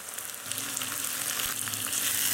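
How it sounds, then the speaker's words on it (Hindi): Chopped tomatoes going into a pan of frying onions and ginger-garlic paste for egg masala curry, giving a steady close sizzle and crackle of hot oil with light stirring, no talking. "अब हम इसमें दो बारीक कटे हुए टमाटर शामिल करेंगे"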